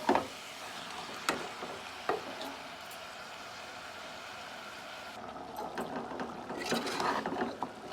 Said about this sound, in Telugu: అందుకని ఒక 5 నిమిషాలు వేయించుకుందామండి ఆయిల్లో